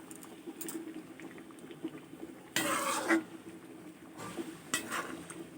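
Egg omelette curry simmering in a pot, a steady low bubbling with soft stirring and a couple of louder clinks of a utensil against the pot midway.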